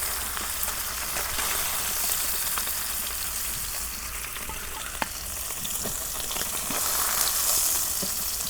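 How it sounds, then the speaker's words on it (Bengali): Rohu fish frying in hot oil, a loud dense crackling sizzle that holds steady throughout with a few small pops, close up and with no talking. "মাছ ভাজা হচ্ছে"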